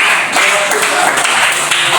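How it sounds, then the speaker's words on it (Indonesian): A classroom full of students applauds during a lesson, producing a continuous wash of overlapping claps that is steady and moderately loud throughout. "Tepuk tangan untuk"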